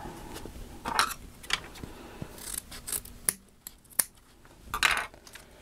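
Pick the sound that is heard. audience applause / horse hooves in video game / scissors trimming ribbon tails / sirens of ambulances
scissors trimming ribbon tails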